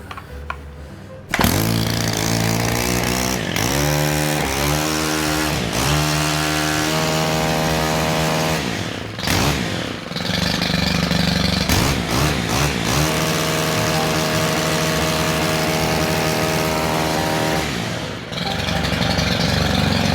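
A STIHL string trimmer's small two-stroke engine starts with a roar and runs loudly and close, revving up and down repeatedly between a rough idle and higher speed, sounding poor at high RPM.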